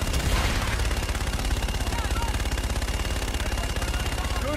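Rapid automatic gunfire from an air support strike in Call of Duty: Infinite Warfare, a loud, dense burst of rattling shots running continuously from start to finish, with no one talking.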